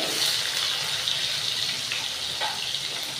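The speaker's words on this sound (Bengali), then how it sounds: "আলুটা ছেড়ে দিলাম তেলের মধ্যে একটু লবণ দিয়েছি" Potatoes fry in hot oil with a little salt and bay leaf, giving a steady, close, loud hiss and sizzle that continues for the whole stretch with no talk.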